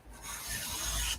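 A short rasping cut or scrape while trimming a paper file folder in a craft project, faint and close, lasting about a second with no talking.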